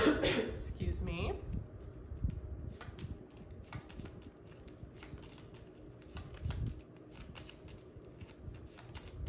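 Tarot cards shuffled close by: a dense riffling burst at the start, then scattered soft card snaps and slides, with a brief throat sound.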